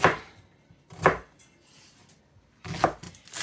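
A knife cuts onions into chunky pieces on a board, three distinct sharp chops spaced about a second apart, close and clear with quiet between them.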